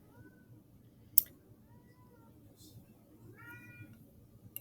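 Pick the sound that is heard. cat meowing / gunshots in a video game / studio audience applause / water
cat meowing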